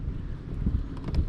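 Wind on the Tradinghouse Creek Reservoir, a lake, buffets the microphone while out bass fishing, a low continuous rumble with brief gusty swells and faint lapping over about a second, no voices.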